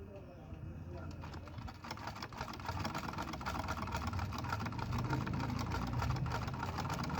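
A Singer-type sewing machine runs after its thread tension nut is loosened, giving a steady, fairly quiet mechanical whir that builds slightly and continues evenly without pause.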